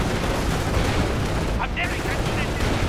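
Sustained gunfire and explosions in a Company of Heroes battle, with a machine gun team firing amid dense, continuous loud combat noise and a brief higher burst near the middle.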